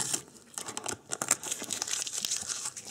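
Adhesive tape peeled off a circuit board from an amplifier repair, giving a close, crinkly tearing and crackling that comes in quick irregular bursts.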